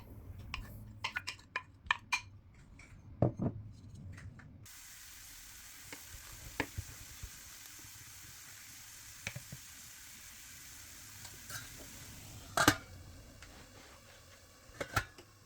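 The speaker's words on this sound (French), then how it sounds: "ajoutez les courgettes râpées, puis faites revenir 2 à 3 minutes avec un couvercle à feu doux" Grated courgettes fry gently in oil in a covered pan over low heat, a quiet steady sizzle carrying under scattered clinks and stirring knocks, with a few louder utensil taps near the end.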